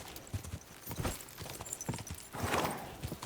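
Horse hooves pounding at a gallop in Kingdom Come: Deliverance 2 during a race, a steady, fairly loud rhythmic clatter that swells near the end, with no voices.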